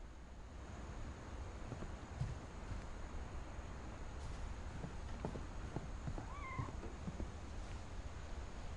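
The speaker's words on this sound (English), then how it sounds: "I heard a kitty cat." A cat meows faintly in What Remains of Edith Finch, two short rising-falling cries near the end, set against a quiet, windy ambient background.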